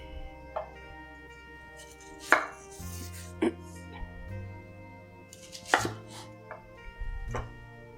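A knife dices onion on a cutting board for a simple pumpkin squash soup, with several sharp, separate chops spaced irregularly at close range and a low background hum between them, no voices.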